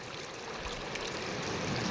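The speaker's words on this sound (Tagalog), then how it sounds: "pag umaagos na yung tubig malinis kasi may kasabihan niya na running water is very clean" Spring water runs out from under a rock in a steady, soft, close trickle that continues without a break and with no talking.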